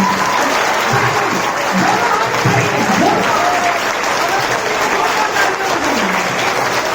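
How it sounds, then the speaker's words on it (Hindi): Audience at an International Women's Day program breaking into loud, sustained applause, a thick, close wash of clapping with crowd murmur and faint voices mixed in. "इससे पहले अपने लिए जोरदार तालियां होनी चाहिए।"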